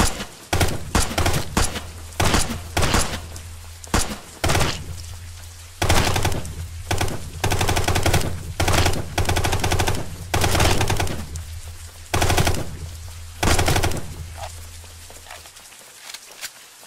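Machine gun fire in the video game Brick Rigs: loud, sustained automatic bursts of rapid shots, broken by short pauses, over a steady low hum.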